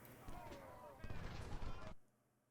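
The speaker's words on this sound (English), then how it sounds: "They're getting hit by artillery." Artillery fire in the Civil War strategy game Ultimate General: Civil War, heard as a dense, continuous rumble of distant booms and crackling shots that ends abruptly after about two seconds, fairly quiet overall.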